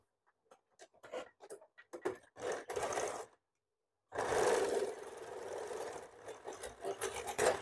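A sewing machine stitching the shoulder seam of a blouse, running in short bursts of rapid needle clatter separated by pauses, then a longer continuous run, close and fairly quiet.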